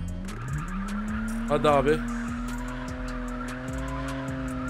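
A car in a mobile open-world driving game drifts, its engine humming steadily while the tires give a short, sharp squeal in the middle; someone talks briefly over the driving.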